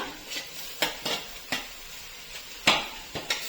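Tomatoes frying in a pan for molake kalina sambar, a low sizzle broken by sharp scrapes and taps of a spatula at uneven intervals, close by and with no voices.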